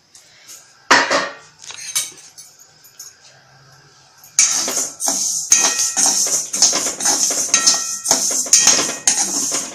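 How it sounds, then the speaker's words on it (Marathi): Whole urad dal dry-roasting in a pan over low gas, stirred with a utensil: sharp clinks and scrapes of metal on the pan and dry grains rattling, sparse at first, then dense and rhythmic up close. "आता गॅस मंद करून चांगली खमंग भाजून घ्यायची"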